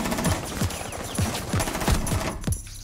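Rapid automatic gunfire in the Rainbow Six shooter game, a steady burst of sharp, evenly spaced shots close by, about eight rounds before it cuts off.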